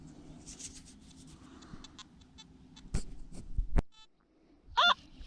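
A metal detector gives off a short, high-pitched electronic warble near the end, following scattered rustling and a sharp knock.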